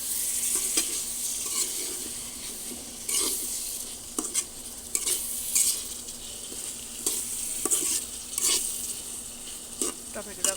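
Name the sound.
tomatoes being stirred and fried with onion and chili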